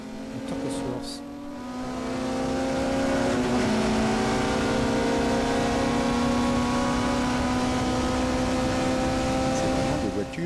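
Vintage Ligier race car at Le Mans Classic with a 2-litre four-cylinder twin-cam Cosworth engine, a sustained engine drone that swells after a couple of seconds and holds loud and steady under French commentary.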